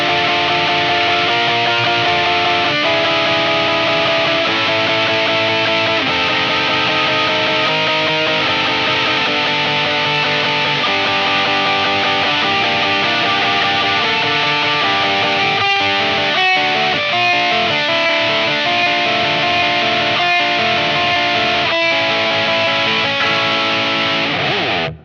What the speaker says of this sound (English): this pedal on this particular setting, all the way on the overdrive sound with quite a lot of drive behind it